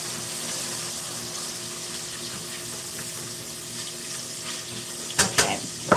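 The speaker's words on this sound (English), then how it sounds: "So drain and rinse both your beans." Cannellini and pinto beans from two cans each draining and rinsing under a running kitchen tap, a soft steady rush of water that ends in a few sharp clanks.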